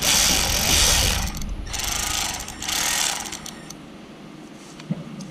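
A repaired Milwaukee M12 cordless ratchet running, with its cam spinning fast: a loud, buzzing mechanical whir in two or three bursts, then a quieter trailing rattle and a small click near the end.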